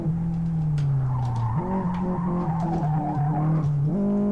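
Tires of a 1989 Fiat Uno 1.3, a front-wheel-drive car, squeal and skid continuously while drifting in the Live for Speed racing game, with the engine note rising and falling steadily underneath.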